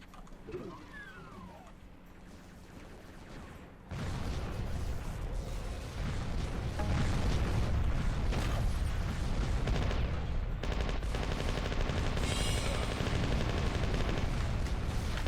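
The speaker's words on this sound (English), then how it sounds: "the fast cannon is faster than I expected and more explosive than I expected" Rapid cannon fire from a fast-firing explosive weapon in a Samsara co-op Doom session, a dense, loud barrage of booms and blasts building after a quieter start and continuing without pause.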